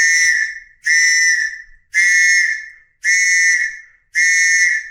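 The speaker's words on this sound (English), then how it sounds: "This is called just a basic survival whistle." Five loud, shrill blasts from a basic survival whistle, each about half a second long with short gaps between, sounding close and piercing with no other sounds.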